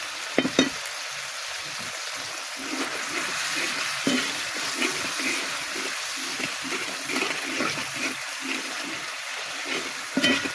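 Tilapia cooks in oil with mustard paste, onion, garlic and ginger, giving a steady broadband sizzle with scraping stirs and small clatters throughout, fairly close and with no talking.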